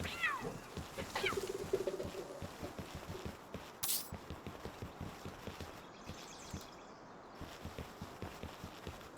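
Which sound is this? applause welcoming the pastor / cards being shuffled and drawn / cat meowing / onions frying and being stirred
cat meowing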